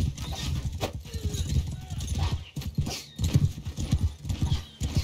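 Cavalry horses in Mount & Blade II: Bannerlord gallop in a charge, a rapid, heavy drumming of hooves in uneven bursts, loud and close, with a brief whinny mixed in.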